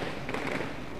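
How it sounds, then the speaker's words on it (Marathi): Fireworks going off at a sports tournament opening ceremony, a brief burst of dense crackling and thumping, fairly loud and filling the whole second. "फटाक्याची आतषबाजी होताना"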